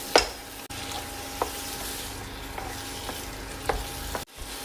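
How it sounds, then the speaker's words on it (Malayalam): Chicken and masala paste being stirred together in a pot for a home-style rice dish, a steady sizzle under a few soft scrapes and knocks of the spoon, with brief silent gaps near the start and end; no one talks. "ചിക്കനും അരപ്പും എല്ലാം കൂടെ നന്നായിട്ട് മിക്സ് ചെയ്ത് വരണം"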